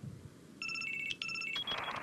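An in-game phone in Resident Evil 4 VR rings with an electronic trilling tone in repeated short pulses, moderately quiet and clear over a low background.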